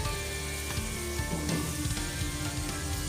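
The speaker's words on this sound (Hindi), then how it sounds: "मटर को हम अच्छी तरह से भूनेंगे।" Peas and chicken fry in a hot pan, a steady dense sizzle with a few faint stirring scrapes partway through, no voices.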